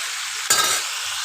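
Water poured into spices frying in a hot pan, a sudden loud hiss erupting after half a second over the steady background sizzle, then settling into a bubbling simmer, close up with no talk.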